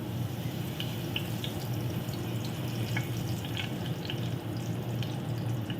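Curry leaves sizzle in hot coconut oil while Chicken Perattu is cooked, a steady frying hiss dotted with small sharp crackles and pops, moderately close and without talk.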